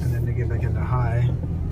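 A 2015 Chevy Colorado truck in four-wheel high drives with a low engine rumble close by, under a voice talking throughout.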